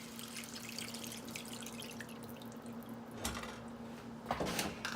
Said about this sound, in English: I want to pour a little water in